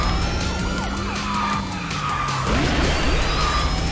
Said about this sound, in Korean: 경찰차 소리도 나고